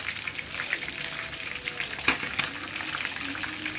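Fresh danggit (rabbitfish) frying in hot oil in Abu Dhabi, giving a steady, close crackling sizzle with a couple of sharper pops near the middle.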